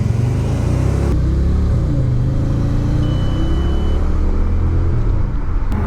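A car engine pulling hard on a city street, a loud, steady rumbling drone that holds throughout with a shift in tone partway, close and continuous with no talking over it.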